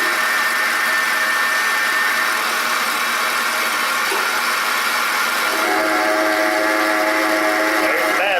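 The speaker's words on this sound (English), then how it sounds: "There's the bad one. So it appears to be the belt tensioner pulley" A car engine runs steadily with a faulty belt tensioner pulley, giving a constant whirring drone with a faint whine, and a brief tonal squeal toward the end.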